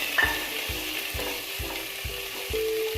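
Finely chopped onion sizzles in a pan while a spoon stirs it in steady, evenly spaced scraping strokes, close and clear with no voices.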